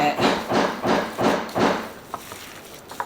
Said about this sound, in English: They upstairs doing construction in my house.